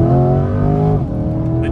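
A C8 Corvette with an LT-style engine cruises at about 40 in track mode, its engine a loud, steady low drone whose pitch holds and then dips as the car eases off.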